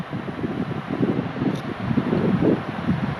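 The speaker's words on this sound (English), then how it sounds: "Still pretty windy this morning" Gusty morning wind on the Centennial Trail buffets the microphone in low, rumbling waves, steady and fairly loud, with no one speaking.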